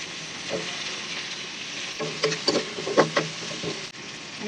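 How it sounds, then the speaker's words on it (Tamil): Onions and tomato sauté in a pan for a fish curry. The pan sizzles steadily, and a spoon stirs and scrapes through it in a cluster of louder bursts midway. "வெங்காயம் நல்லா வதங்கிடுச்சு."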